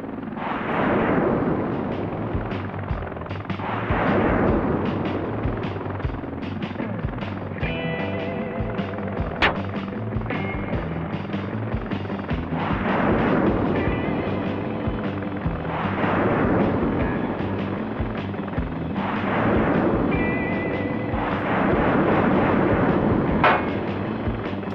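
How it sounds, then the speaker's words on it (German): Repeated rocket launches and booming impacts as a helicopter attacks a tank in the tactical helicopter combat game Heliborne, arriving in several loud bursts of a few seconds each over a constant rotor-like rumble, with no talking. "Wie viele Raketen soll ich denn auf so einen Panzer schießen?"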